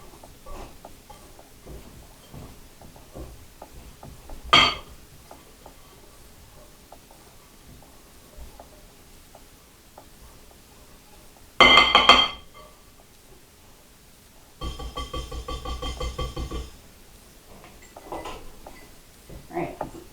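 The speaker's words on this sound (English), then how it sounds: "now I'm going to take my whisk and blend everything together" A whisk blends dry ingredients in a bowl while making banana nut bread: long quiet stretches, a sharp clink, a louder clattering burst, then a couple of seconds of quick rhythmic scraping and tapping against the bowl.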